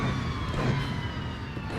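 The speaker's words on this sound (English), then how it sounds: "those downshift sounds" A GT3 race car in Assetto Corsa on the Nordschleife sustains a loud, harmonically rich engine howl as it works through downshifts, a continuous buzzing roar without a break.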